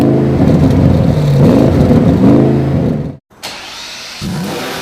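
Audi RS6 Avant wagon with a 4.0-liter turbocharged V8 accelerating hard, a loud, close, rising engine roar that cuts off abruptly before a quieter engine tone resumes.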